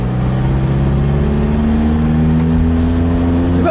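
A Chevrolet Chevette, one of the first Chevettes in Brazil, accelerates nearby, its engine note climbing smoothly and steadily in pitch as it revs up, loud and close with no speech.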